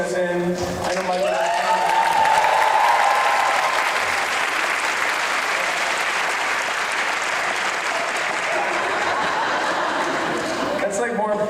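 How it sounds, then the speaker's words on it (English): Loud, sustained applause from a large convention audience at a Dragon Con panel, with cheers and some laughter mixed in, holding steady for about ten seconds before easing off. "That's like more applause than a Mets game"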